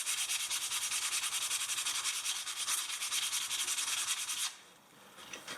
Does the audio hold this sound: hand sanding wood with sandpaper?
yes